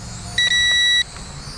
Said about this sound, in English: It's got this beeping now